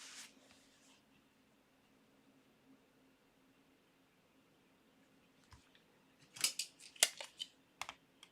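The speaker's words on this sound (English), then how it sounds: "just cutting." Scissors cut through cloth diaper fabric in quick snipping bursts near the end, close and fairly faint, after a stretch of quiet hum with only sparse small clicks.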